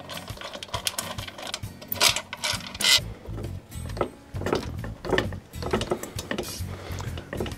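Screws on a scooter exhaust pipe being unscrewed by hand while the pot is held up. Close, irregular metallic clicks and small rattling, ratchet-like movements come in bursts, with no talking.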